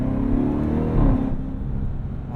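A 2026 Dodge Durango SRT Hellcat's supercharged engine revs loudly up close, a deep, rising roar with a whirring edge that swells around the midpoint and then settles into a steady drone, with no talking.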